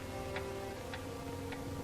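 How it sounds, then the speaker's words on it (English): A clock ticking in a quiet, menacing room in a 1944 comedy-horror radio mystery, three evenly spaced soft ticks over a hissy, humming old recording. "The ticking of the clock,"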